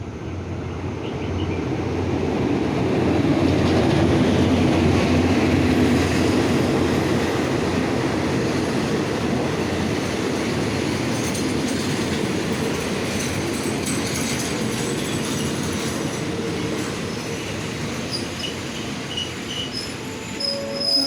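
A train on Thailand's southern line rolls through Pak Khlong station, a steady close rumble of wagons with squealing wheels and some clatter, loud and sustained throughout with no talk.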